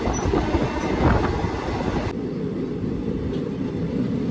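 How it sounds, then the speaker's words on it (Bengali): A train standing at Cuttack station gives a loud, steady rumble of engine and carriage noise close by, with a faint high squeal early on and no speech. "তো আমাদের ট্রেনটা এখন এসে দাঁড়িয়েছে কটক স্টেশনে"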